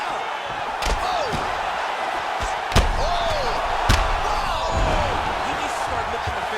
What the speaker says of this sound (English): Beautiful combination. He knocks him down.